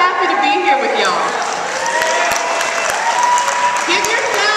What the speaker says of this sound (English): Give yourselves that round of applause